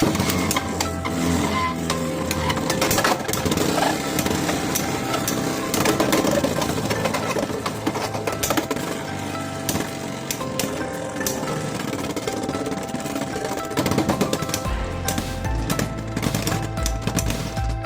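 Beyblade X spinning tops whirl and collide in a plastic stadium, making a continuous loud, rapid mechanical rattle with sharp clicking impacts throughout. Near the end the rattle grows coarser.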